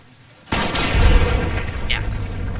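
Gunshots with hollow point ammo in Fallout New Vegas: a sudden loud report followed by a sustained roar of impact and reverberating noise, with a second softer burst just after.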